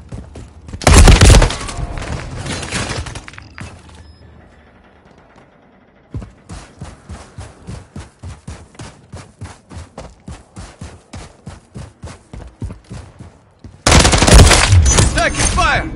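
Rapid automatic gunfire from Call of Duty Modern Warfare III, with loud dense bursts at the start and end and a steady stream of evenly spaced shots through the middle, mixed with game noise and voice callouts.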